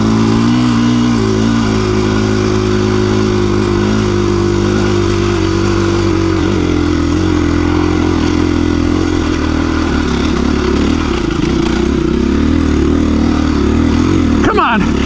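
KTM 350 EXC-F dirt bike engine revving loud and close throughout an off-road ride in high desert terrain, with rising and falling throttle pitch and a voice speaking over it.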